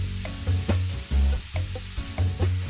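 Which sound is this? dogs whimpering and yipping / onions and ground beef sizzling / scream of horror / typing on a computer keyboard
onions and ground beef sizzling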